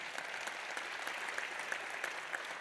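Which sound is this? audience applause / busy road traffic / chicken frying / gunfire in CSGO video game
audience applause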